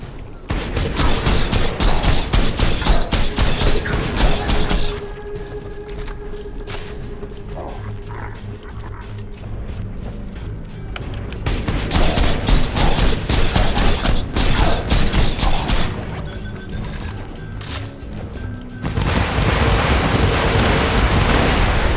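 Smart rockets fire in a Borderlands 2 shootout in a long, loud, dense rush of blasts and roaring bursts, easing off in the middle before surging again, with no talking.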